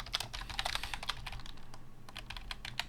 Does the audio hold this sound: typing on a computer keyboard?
yes